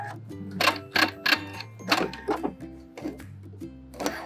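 A sewing machine fitted with a twin needle backstitches at the end of a seam, producing short, close bursts of clattering stitches separated by brief pauses, with no talking.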